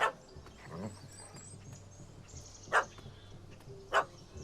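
A dog barks twice, sharp and fairly distant, in the video game The Witcher 3, over a low ambient game background.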